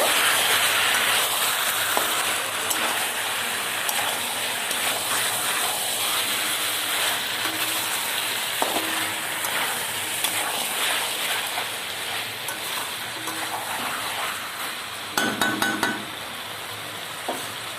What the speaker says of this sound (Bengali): আলু ভালো করে একটু কষে নেব